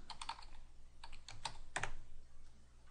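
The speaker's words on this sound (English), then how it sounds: "here I type the name of my database" Computer keyboard being typed on while a database name is entered, a short run of close, quiet key clicks in small bursts.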